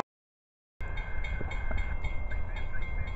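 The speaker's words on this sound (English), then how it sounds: "There it goes, another train" A train passes by a trackside spot, its loud steady rumble and rolling wheel noise filling the whole stretch after a short silence, with faint high squeal tones above.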